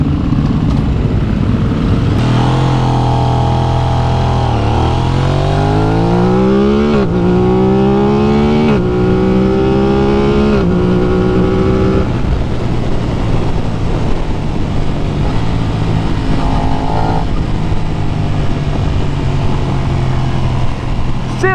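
An Aprilia RS660 sport motorcycle engine revs repeatedly and accelerates through gears, pitch rising in sweeping climbs over a constant loud roar, no talking.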